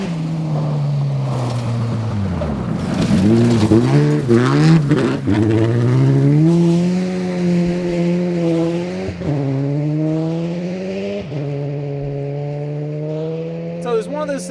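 A rear-wheel drive rally car on Stage 4 of the 2012 Olympus Rally roars loud and close, its engine revving and dropping through gear changes, then holds a steady, strained drone.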